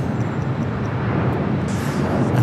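Airplanes at Los Angeles LAX airport give a loud, continuous roar of jet engines that swells slightly toward the end, heard alone with no talking.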